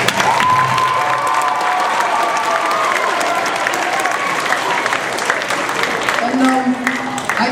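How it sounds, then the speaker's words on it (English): A school audience of students applauds the founder of a friendship program, loud sustained clapping mixed with cheering and excited young voices, continuing for several seconds with a few shouts and tonal calls rising over the crowd. "so let's give her a round of applause"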